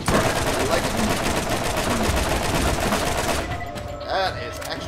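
Rapid, loud gunfire rattles on in Borderlands, nearly continuous bursts of shots that ease off near the end, with a person talking over the action.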